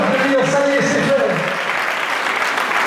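Applause breaks out at the end of a timed burger-making challenge, a dense clapping wash that carries on throughout, with a voice heard over the opening moments.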